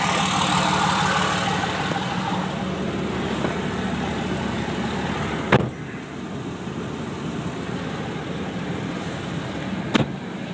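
A 2004 Dodge Ram 2500 crew cab 4x4 with a 5.9 Cummins diesel and no exhaust fitted runs steadily with a loud, continuous engine drone, broken by two sharp clicks or knocks, with no talking.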